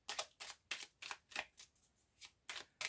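Tarot cards being shuffled and cut, a series of about eight crisp riffling bursts at a steady rhythm, close and fairly quiet with no talking.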